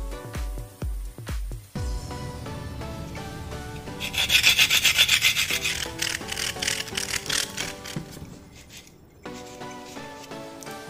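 A motorcycle horn part is rubbed clean with a steady, rasping scrape that runs continuously and grows louder midway, close up, with no talking.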